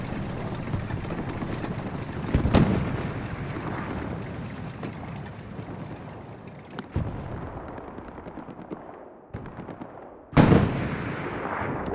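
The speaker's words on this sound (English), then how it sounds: "Keanu Uchiha on the AT gun, pounding the forward Espt positions" Anti-tank gun firing in the Hell Let Loose World War II video game: a few heavy, sharp booms spread across the stretch, each followed by a decaying echo, over a constant rumble of distant battlefield noise.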